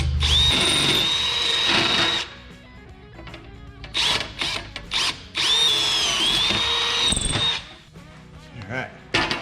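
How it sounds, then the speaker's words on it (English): A power drill bores pilot holes in two long bursts, whining and squealing as the bit bites, with short grinding pulses between them. "I like to drill my pilot holes first"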